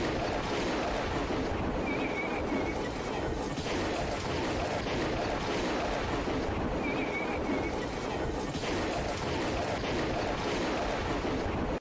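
Strong typhoon wind roaring over crashing waves several metres high on the Fuzhou seashore in Fujian, a loud, steady broadband rush lasting throughout with no pauses.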